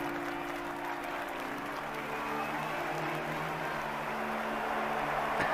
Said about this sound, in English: they really had to try and get people to clap there